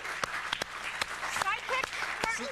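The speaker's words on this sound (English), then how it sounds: "start clapping again because I'd like to introduce the wind beneath my wings" A studio audience claps and cheers for a talk show's co-host, a brief burst of applause with a host's voice talking over it.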